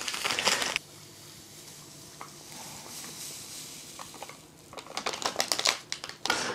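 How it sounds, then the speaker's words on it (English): A packet of powdered orange drink is torn open and handled, giving close crinkling and rustling bursts at the start and end with quieter paper rustle in between, with no voices. "I wanna try this powdered orange drink right here. Got myself a glass and I'm just gonna open this up."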